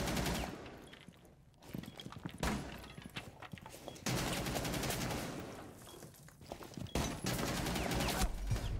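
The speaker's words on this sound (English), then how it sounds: "That fucking LMG, man." A light machine gun fires in a tactical shooter game in long, loud sustained bursts of rapid automatic fire with short gaps between them, heard alone without talk.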